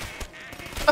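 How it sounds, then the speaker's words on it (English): Cartoonish duck quack used as a fart sound effect in a Black Ops 3 Zombies mod on Kino der Toten, a short burst that ends in a louder honk over game background noise. "The duck noise is overpowered"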